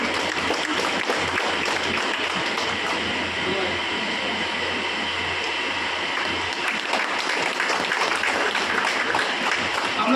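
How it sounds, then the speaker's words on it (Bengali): A crowd at an inauguration ceremony for a small wooden hub applauds in a dense, steady wash of clapping that fills the whole span without a break. "একটু জোরে হাততালি দেবেন সকলে"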